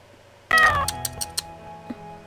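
A cat in the video game Corpse Party: Book of Shadows lets out a single loud, clear meow, followed by a few soft taps and ticks in an otherwise quiet scene.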